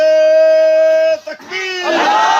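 A large crowd at a religious gathering (mehfil) roars a slogan in unison, a loud sustained call that breaks off briefly and swells again into massed shouting.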